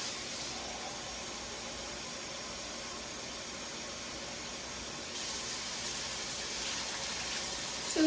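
Water poured from a can into a pot of canned-bean chili, a steady broadband gushing wash that runs continuously and grows slightly louder partway through, with no talking.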